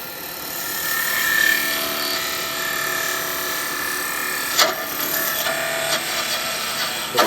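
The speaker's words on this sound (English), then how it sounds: "And then I'll just sand the top of it." Steady raspy hiss of sandpaper against the spinning top of a wooden snowman gift box on a woodturning lathe, with the motor hum underneath and a few sharp knocks near the end.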